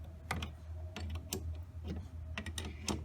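A wrench tightens the brake master cylinder on a 1998 Chevy truck, giving several quick metallic ratcheting clicks in short bursts over a steady low background hum, close and fairly quiet.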